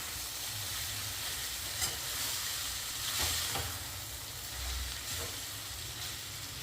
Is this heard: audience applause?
no